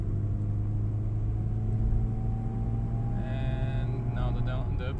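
An automatic transmission in a Mk1/Mk2 VW Golf or Jetta kicks down on a straight road, with a steady drone of engine and road rumble, then the engine note climbing sharply as the car accelerates near the end.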